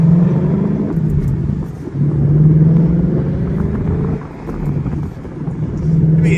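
A Ford Mustang pulls away from a stop without the gas pedal, its engine giving a steady low rumble and drone that dips briefly and returns, heard close from inside the car with no talk.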